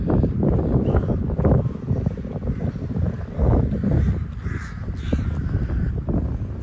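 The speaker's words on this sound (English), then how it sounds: "Now you know you're in a cemetery when you have crows everywhere crowing." Crows caw repeatedly in a Vienna cemetery, with several harsh calls at varying distances over gusty wind noise buffeting the microphone.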